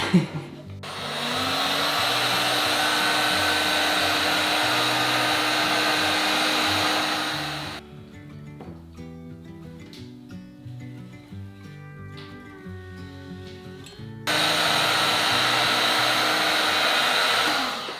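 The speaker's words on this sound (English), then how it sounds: "place that one here to just blow dry it a little" A hair dryer blows on wet clay mugs in a pottery studio with a loud, steady whoosh. It cuts off for several seconds, then starts up again at full strength.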